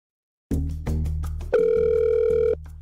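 A telephone line on a Nobel Prize call to author Han Kang gives clear electronic tones that step up in pitch and hold for about a second before dropping away, with no voices.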